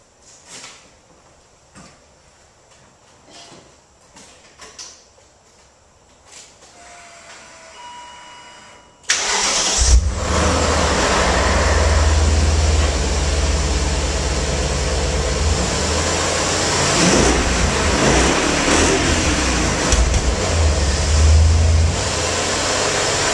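A stock-exhaust BMW car engine is started up close to a camera set on the ground, a sudden loud start followed by a steady, strong idle rumble that holds on alone after quieter handling noises.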